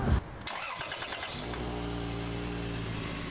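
A car engine cranks and catches, then settles into a steady, even idle with a low rumbling hum that holds close and loud to the end.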